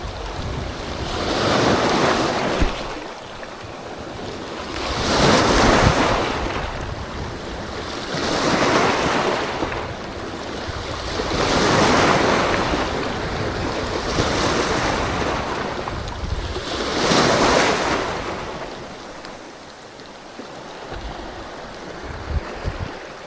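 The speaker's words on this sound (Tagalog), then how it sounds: "Hindi ganun kalalaki yung alon." Ocean waves surge and break in a slow, steady rhythm of about five swells, with wind buffeting the microphone, recorded from a small boat at sea during a northeast monsoon on a fishing trip over a reef.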